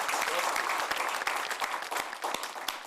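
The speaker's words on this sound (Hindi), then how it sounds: "आपकी हिम्मत के लिए एक बार जोरदार तालियां बजाना चाहता हूं" Applause from an audience at a Hindi poetry show, a short burst of dense, lively clapping with some individual sharp claps, continuous throughout.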